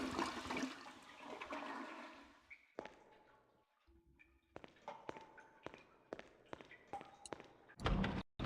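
A blocked toilet in Silent Hill: Origins on PS2, with metal stuck in the pipe, flushes with a rushing gush of water for a couple of seconds, followed by scattered clunks, thuds and footsteps and a final heavy burst.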